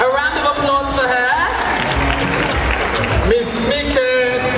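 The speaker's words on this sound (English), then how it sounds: "A round of applause for her." Crowd applause fills the background at a gala as a voice speaks over it, the clapping steady and fairly loud throughout.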